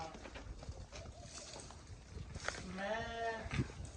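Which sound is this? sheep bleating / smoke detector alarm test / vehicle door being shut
sheep bleating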